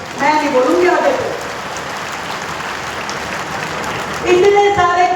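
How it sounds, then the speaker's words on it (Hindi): At a village gathering for a development announcement, an audience claps in a sustained, fairly loud burst, with someone speaking at the start and again as the clapping tapers off. "ताली जोरदार नहीं है, मैं नहीं बोलूंगी आगे से।"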